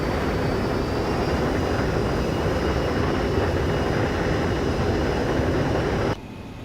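Steady cabin drone and airflow roar of an ERJ-145 regional jet in X-Plane 12 as the landing gear comes down on approach, a loud continuous rumble with a faint tone that drops abruptly near the end.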